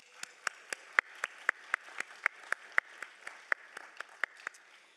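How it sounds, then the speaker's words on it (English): An audience claps at a sustainability summit's opening session in a steady, sparse rhythm of distinct claps, fairly faint and without voices over it. "let's just give them a round of applause"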